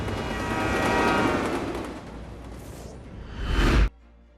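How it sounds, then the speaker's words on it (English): A train roars through a scene in Final Fantasy XV, a loud rumbling rush that swells, eases, then surges in a sharp whoosh before cutting abruptly to near silence. "It was the scene where they're trying to blow up the train."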